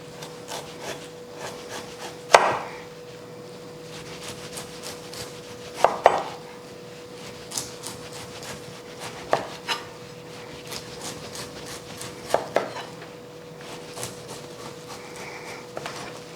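A vegetable is peeled for a traditional Waldorf salad, with repeated soft scraping strokes and occasional sharp knocks against a board over a steady faint hum, close and unhurried, with no talk.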